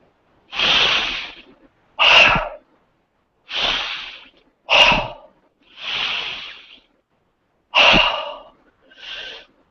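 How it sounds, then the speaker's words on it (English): Three slow, deep meditation breaths, each a long, loud, close airy inhale followed by an exhale, separated by short silences, with no talking. "give yourself 3 long, deep"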